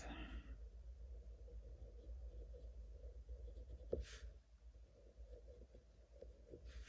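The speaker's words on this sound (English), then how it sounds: "I'm going to actually use the color pencil just a little bit to give it some depth." A colored pencil lightly shades a drawing of Dopey from Snow White and the Seven Dwarfs, giving soft faint scratchy strokes on paper under a low steady hum, with one sharper tap midway.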